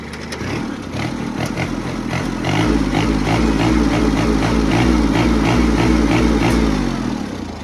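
Kubota L2605 four-wheel-drive farm tractor with a small diesel engine, revving up from idle and holding higher revs in a loud, close, rhythmic chugging drone, with no talking.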